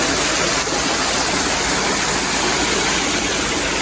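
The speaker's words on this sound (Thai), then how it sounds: "เนี่ยเป็นน้ำตกด้วยนี่" Steady, dense rush of a small waterfall, constant and close, with no pauses and no voices.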